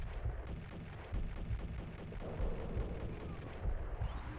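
Gunfire in the video game Max Payne, with repeated low booming shots and bursts at irregular intervals, fairly faint and muffled, and no talking.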